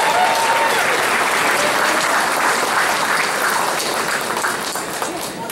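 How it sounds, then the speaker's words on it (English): Dense applause from a large audience filling a hall at an anniversary celebration, steady and loud throughout before tapering slightly near the end. "How about a big round of applause for Mary's Lane?"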